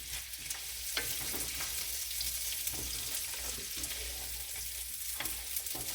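Chopped carrots sizzle loudly in a hot pan, a steady frying hiss with intermittent scraping and knocking as a wooden spoon stirs them.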